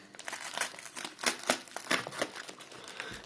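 Close, busy crinkling and rustling of packing paper pulled from a parcel box that held an antique spoon bought at auction, in irregular crackling bursts.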